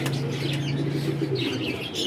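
A flock of pigeons gives a low, continuous cooing drone, with faint wing flutters and a few chirps layered over it, fading partway through.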